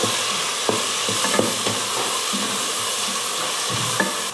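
Masala powder sautéing in a pan for chicken biryani gives a loud, continuous close sizzle with occasional soft spoon taps and scrapes, and no one speaks.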